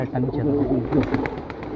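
Pigeons coo in low, throaty murmurs close by, overlapping in a steady warble, with faint muffled voices mixed underneath.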